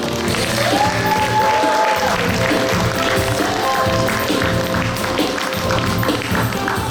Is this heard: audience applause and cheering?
yes